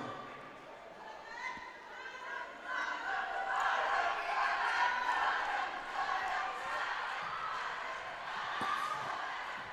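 Indian team supporters cheer on their athletes in the background at an Asian Pencak Silat Championship bout, a steady roar of crowd voices and shouts that swells in the middle and carries on under commentary.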